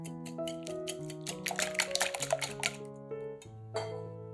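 A whisk clinks and scrapes in a bowl of eggs mixed with salt, sweet paprika and ground black pepper, a quick run of light metallic taps heard over steady background music.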